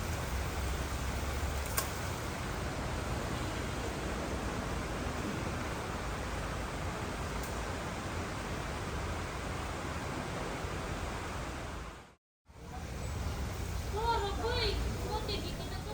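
Steady rain pours down in Cebu, Philippines, near the Metropolitan Cathedral, a constant broadband hiss that holds evenly for the whole stretch, briefly cut out once, with faint voices near the end.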